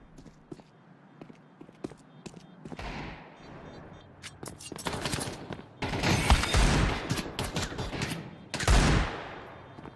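Rapid bursts of gunfire from a Counter-Strike match in the PGL Masters Bucharest 2025 grand final, with clustered rattling volleys and single shots of varying loudness, some close and loud.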